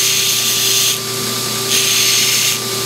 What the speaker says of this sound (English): I'm just rolling it around this belt real gently.